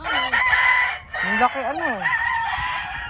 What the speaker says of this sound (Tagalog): Ang daming manok, oh.